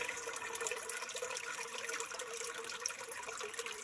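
Water rushing steadily into a micro-hydro pit as it fills after a drain valve is closed, like a pipe pouring into a basin, a continuous broadband hiss with no speech over it.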